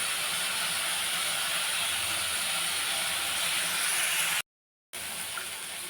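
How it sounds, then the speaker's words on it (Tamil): Tomatoes and vegetables with dried red chillies sauté in a pan, giving a steady, loud hissing sizzle that cuts out briefly before carrying on. "காயை நல்லா வதக்கி எடுத்துக்கலாங்க"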